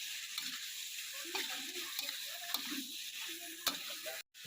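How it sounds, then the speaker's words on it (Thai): Catfish stir-fried with chili in a wok gives a quiet, steady sizzle with a handful of sharp spatula clicks and scrapes, fairly soft and close, ending in a brief dropout. "ผัดปลาดุกใส่พริกก่อนนะครับ"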